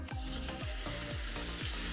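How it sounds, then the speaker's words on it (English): Loud, constant sizzling of steak frying in a hot pan, overlaid with a rhythmic scraping or stirring sound repeating about every half second, close up. "Get that grill sizzling sound"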